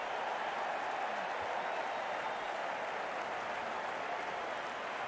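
A crowd at a cricket match cheers and applauds in a continuous, dense wash of clapping and noise that holds steady throughout.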